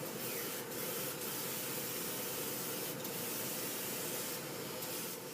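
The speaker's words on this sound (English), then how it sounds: "I'm spraying it so it's not getting too wet" A spray gun applying paint for carbon-look water-transfer printing hisses continuously and loudly at close range, a steady airy spray with a few brief pauses in intensity.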